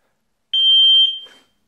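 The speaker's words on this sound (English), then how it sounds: "So the lock's now set. I'll get the confirmation bleep." Oxford Max Duo lock alarm gives a single sustained electronic confirmation bleep of about half a second, loud and close, followed by a brief softer tail and handling rustle.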